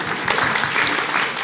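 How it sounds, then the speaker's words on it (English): Audience applause at an afternoon dialogue event: a dense, steady wash of many hands clapping together, fairly close and loud, with no talk over it. "So round of applause."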